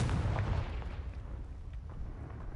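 A Confringo blast spell in a video game goes off as a sharp booming burst at the start, then rumbles away into a fading roar.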